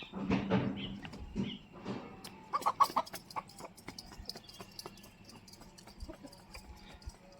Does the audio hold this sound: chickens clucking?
yes